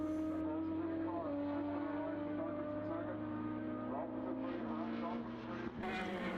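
Formula BOSS racing cars on the Irish championship circuit drone through a chicane, engine notes rising and falling as the cars brake and accelerate; the engines are steady and somewhat distant, and a commentator speaks over them.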